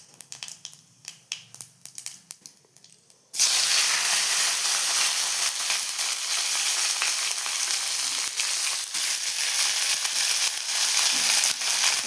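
Tomatoes drop into hot oil seasoned with cumin and bay leaf for a tangy small-fish curry: after a few light crackles, a sudden loud, steady sizzle and hiss fills the rest, close and continuous without talk.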